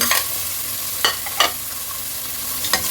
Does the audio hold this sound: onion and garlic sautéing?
yes